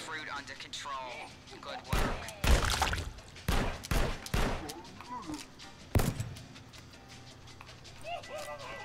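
Gunfire from shooting fruit in the VR game Shooty Fruity, a string of loud sharp shots in bursts through the middle, with chattering game voices and effects around them.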